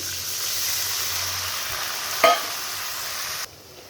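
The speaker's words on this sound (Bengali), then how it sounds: "আদা রসুনটাকে একটু ভেজে নেব" Ginger garlic paste frying with onions in a pan, a steady close hiss of sizzling oil with one brief sharper stir or scrape partway through, then cutting off abruptly.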